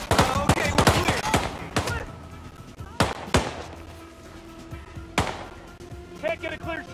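Sharp gunshots in Hitman 3: a dense cluster of rapid reports in the first two seconds, then scattered single loud bangs, with shouting voices in between.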